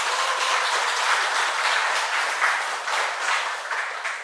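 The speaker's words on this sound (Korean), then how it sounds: "우리 박수 한번." A church congregation applauds to welcome a first-time attendee at a Sunday worship service, with steady, full clapping from many people that fills the room and tapers slightly near the end.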